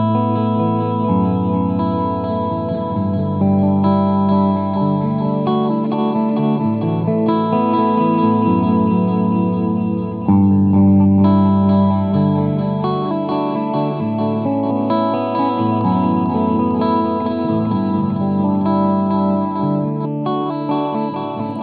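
Guitar through an Echoplex EP-3 tape echo plays sustained, dense tones with wavering flutter and repeating delays, loud and continuous throughout.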